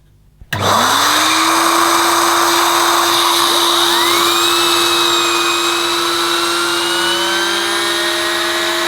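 A Filter Queen Majestic Triple Crown 800 watt vacuum cleaner switches on abruptly and whines up to a loud, steady high-pitched roar, its motor tone rising as it spins up and then holding constant close to the microphone.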